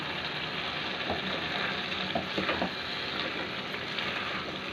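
Carrot halwa with added sugar is stirred in a pan, giving a steady soft sizzle with scattered scraping strokes of a spoon against the metal, fairly close and with no voices.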